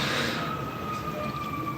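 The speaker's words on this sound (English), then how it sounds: "Oui, c'est une ambulance." A wailing emergency siren carries across a wide, noisy background, its sliding tone steady and moderately distant, as one of several passing ambulances, with no one speaking over it.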